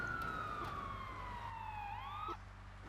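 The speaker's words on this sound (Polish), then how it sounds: "wyłączę syrenę, bo w tunelu ona tylko raczej przeszkadza niż pomaga" A police car siren in Grand Theft Auto III wails in a long, slowly falling then rising tone, steady and fairly close, cutting off abruptly near the end over a low engine hum.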